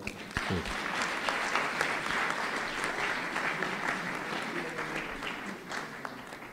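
Warm, continuous applause from a mushaira audience in Bahrain welcoming a poetess to the stage, fairly even and sustained for several seconds before easing off.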